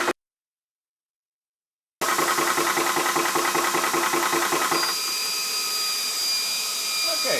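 A VEVOR portable 4500 PSI PCP airgun air compressor starts after about two seconds of silence and runs loud and steady, with a rough pulsing mechanical drone and a thin high whine that appears later.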